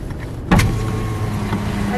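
Cars driving on a road nearby: a sudden loud rush as a vehicle comes close, followed by a steady engine and tire rumble that carries on without speech.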